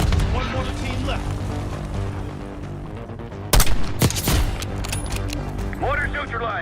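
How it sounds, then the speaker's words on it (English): Mortar fire in the video game Call of Duty Black Ops 6, with heavy booming blasts bursting out mid-clip over a continuous battle din, with voices talking throughout. "Got mortar fire!"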